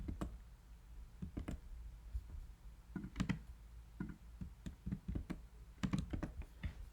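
Computer keyboard keys click in short irregular bursts while code is copied and pasted, close and fairly soft, with pauses between clusters of taps.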